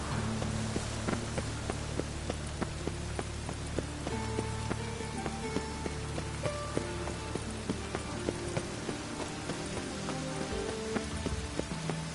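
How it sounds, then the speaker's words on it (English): Rain pours down across The Witcher 3 game world, a constant hissing wash mixed with scattered drop ticks, light hoof or footstep taps and low musical tones, without speech. "Rain again."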